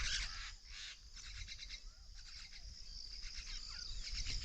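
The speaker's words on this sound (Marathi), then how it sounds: "इतकं पक्ष्यांचा आवाज करत येतात नाही सकाळ सकाळी" Many birds, including mynas, chirp and call together outdoors on a farm in the morning, a busy continuous chorus of overlapping tweets with a steady insect-like hiss in the background.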